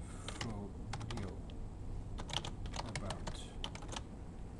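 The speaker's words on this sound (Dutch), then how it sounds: "Jullie geloven mij wel dat ik dit allemaal kan typen." Fingers tap out a steady run of clicks on a computer keyboard while entering website menu labels in Flash MX. The keystrokes come in quick clusters over a dense background hiss, with no one speaking.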